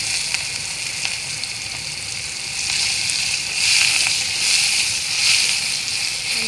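Sliced onion fries in a little oil left in the pan after fish, giving a close, continuous sizzling hiss that swells slightly louder partway through.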